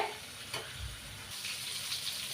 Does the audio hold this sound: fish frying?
yes